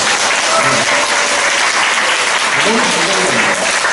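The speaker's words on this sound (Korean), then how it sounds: "우리 할아버지 목사님 박수 한번 크게 쳐주셔야 될 것 같아요" Sustained applause from a church congregation during a sermon gathering, dense and steady for the whole stretch, with faint voices mixed into the clapping.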